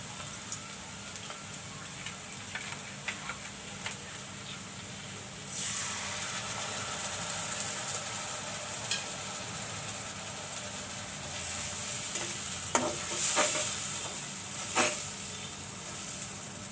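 Spices sautéing in hot oil in a pan for a Bengali fish curry, a steady, close sizzle and hiss with occasional sharp ticks and stirring scrapes, no talk.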